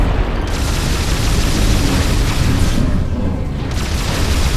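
Continuous heavy booms and weapon fire roar through a Metroid Prime 3 boss fight against Mogenar in Bryyo, dense and loud with no pauses, explosions layered over one another throughout.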